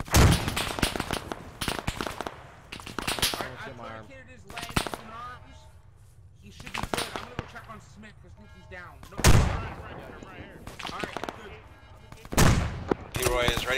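Heavy aircraft cannon bursts from a gun run in the Arma 3 combat game, loud repeated booming volleys with sharp onsets and rumbling decays, spaced a few seconds apart.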